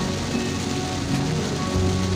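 Heavy storm rain pours steadily over a car driving slowly on a toll road, a dense constant hiss and drumming with a low road rumble beneath, no voices.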